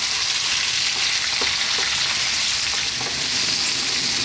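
Onions, garlic and rosemary fry in a pan for a chicken potato stew, giving a constant loud sizzle with a few faint scrapes as the mixture is stirred, and no voices.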